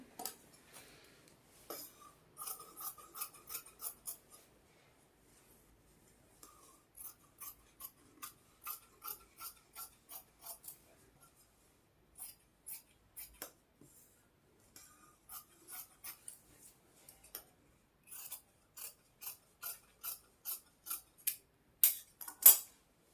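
Scissors snip through cloth to shape a boat neck design. Quiet, crisp cuts come in short rhythmic bursts separated by pauses, growing slightly louder toward the end, with no voices.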